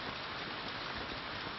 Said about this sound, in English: It's going to keep drizzling.